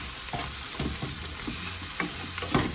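Bok choy frying in a pan on an RV stove, a loud, steady sizzle with scattered stirring scrapes and pops across the whole stretch, no talk.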